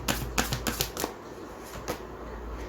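Tarot cards shuffled by hand to draw a clarifier card: a few quick riffling bursts in the first second, then a lone later flick over a quiet room.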